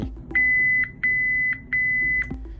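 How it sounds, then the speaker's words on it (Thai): Three long electronic beeps from a PATLITE alert device, signalling a failed sound file load or SD card problem, each about half a second, evenly spaced and fairly loud over a low background hum. "จะมีเสียงตื๊ดยาว หรือตื๊ดตื๊ดตื๊ดสามที"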